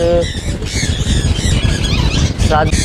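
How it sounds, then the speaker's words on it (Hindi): Green ringneck parakeet breeder pairs squawk and screech loudly and continuously at a busy Sunday bird market in Bahawalpur, with crowd voices mixed in. "हमारे पास रिंग नेक में ग्रीन रिंग नेक के बड़े पेयर ब्रीडर पेयर बैठे हैं।"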